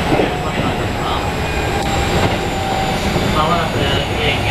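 A Keikyu 1500 series train refitted with a Mitsubishi IGBT-VVVF inverter runs on the Keikyu Main Line airport express between Yokohama and Kanagawa-shinmachi, a steady, loud interior rumble with faint whining tones and possible voices beneath.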